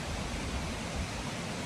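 Creek water flows steadily with a waterfall nearby, making a dense, continuous rushing noise with no other sounds.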